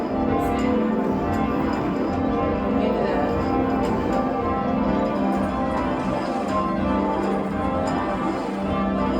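Church bells of St Mary's Richmond ringing continuously, a dense, steady wash of overlapping bell tones with a constant loud level throughout.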